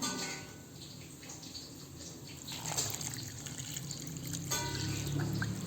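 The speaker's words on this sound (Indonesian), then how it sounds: "kita tambahkan juga dengan 400 ml santan" Coconut milk, 400 ml, pours steadily into a chicken marinade for crispy spicy chicken, a continuous close liquid splash and trickle that swells slightly toward the end, with no talking.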